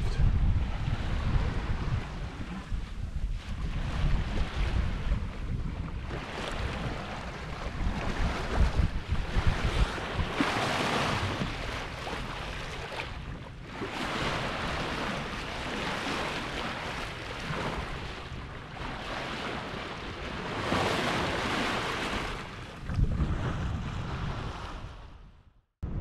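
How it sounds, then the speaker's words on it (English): Strong northerly wind roars in gusts across the microphone while waves wash and slosh continuously around a Westsail 32 sailboat in a bay off Australia's east coast, loud and close, with no one speaking. "And they're here, the northerlies have arrived."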